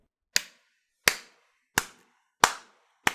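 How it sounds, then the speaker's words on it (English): A single person gives a slow clap for a guest on a comedic show: five sharp, close handclaps spaced evenly about two-thirds of a second apart, each crisp with a quick decay into silence. "That's a slow clap for you"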